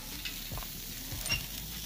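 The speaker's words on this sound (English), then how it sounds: "Oh, it's sizzling." Quiet, steady sizzling of food frying over a wood fire, a soft continuous crackle with a few small pops and no voices.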